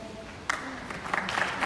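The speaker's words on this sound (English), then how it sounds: "Let's give our sister a round of applause." An audience at a Grambling State University speaking event breaks into applause for a woman just introduced, a short burst of clapping that rises quickly and stays steady, heard close with some crowd noise.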